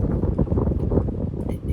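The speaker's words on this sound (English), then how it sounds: "it's not a bad hair day, it's just a very windy day" Strong wind buffets the microphone on a wet, windy day, a continuous low rumbling roar with gusty swells and no pauses.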